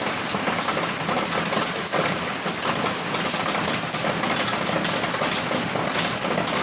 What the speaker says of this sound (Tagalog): Ay naku, ulan talaga.